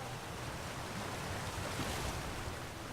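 A waterfall by a cave in the Clockwork City of a video game pours in a constant dense rush of water, steady and close with no break or other sound.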